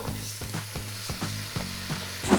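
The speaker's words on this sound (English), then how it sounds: "So now we're going to add in our 3 pounds of diced up potatoes." Three pounds of diced potatoes dropped into a pot of sizzling garlic and flour for potato soup: a low, steady hiss broken by a series of regular, soft thumps and scrapes, close and without talk.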